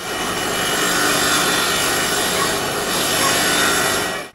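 A carbide-bladed power planer cuts wood in a steady, loud, continuous broadband whir that runs without a break for about four seconds and then stops abruptly.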